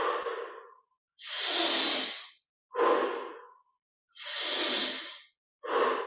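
Slow, deep breathing during a guided meditation: five long inhales and exhales alternate with brief silences, close and clear, no speech.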